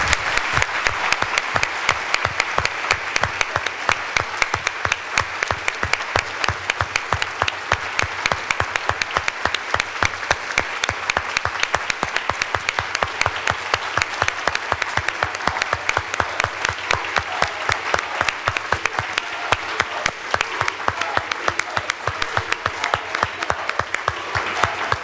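An audience at a panel on national justice operators applauds warmly, a dense sustained clapping that holds steady and loud throughout with no voices over it.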